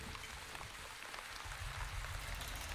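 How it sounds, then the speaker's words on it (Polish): Summer rain with large drops in the video game The Wandering Village, a soft continuous patter of heavy drops on surfaces, faint and steady throughout. "najbardziej to lubię taki jak tutaj, że są duże krople i taki letni deszcz"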